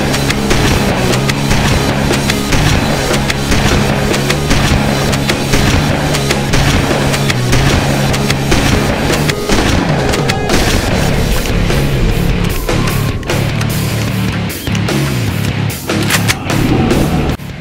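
M90 shotgun firing in Halo: Combat Evolved, loud booming blasts repeated at a slow steady rate amid dense, continuous game noise and clatter, with no talk.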